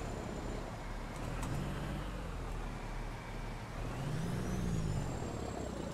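In American Truck Simulator, a heavy truck pulling doubles drives on a road with a steady low engine drone and rolling road noise, a faint hiss of air, and the engine note rising slightly toward the end, quiet and even.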